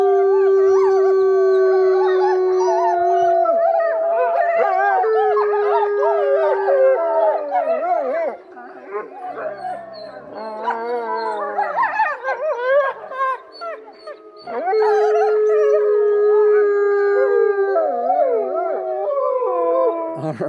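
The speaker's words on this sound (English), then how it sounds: "we got some great video of wolves and wolf dog hybrids up at the wolf sanctuary" Wolves and wolf-dog hybrids at a sanctuary howl loudly and continuously, several long rising and falling voices overlapping in a chorus that runs throughout with no talking.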